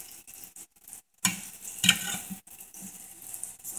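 Fajita vegetables stirred and scraped with two spatulas in a hot skillet, giving a steady sizzle with clicks and scrapes, one sharp clatter near the middle and a brief silent gap before it.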